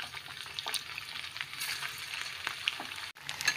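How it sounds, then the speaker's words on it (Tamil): Shaped semolina snacks frying in hot oil: a steady, close crackling sizzle with brief stirring scrapes, alone without speech. "இப்போ நம்ம எண்ணெயில் ஃப்ரை பண்ணி எடுத்துக்கலாம்."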